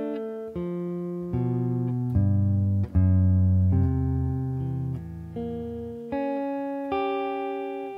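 Single guitar sounding a slow finger exercise, one note after another with each note left ringing, close and steady with no talking.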